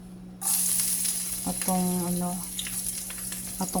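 Garlic and onion hitting hot oil in a pan sizzle loudly all at once, then keep frying steadily as a utensil clinks and stirs, and a short tonal ring sounds midway.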